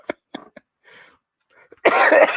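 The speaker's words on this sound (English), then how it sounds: "It's an allergy cough, not a COVID cough." A few soft throat and breath sounds, then after a short pause one loud, close, harsh cough.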